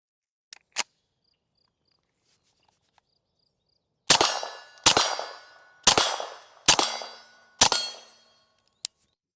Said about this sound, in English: We're gonna do some shooting on steel, do some single taps just to get used to it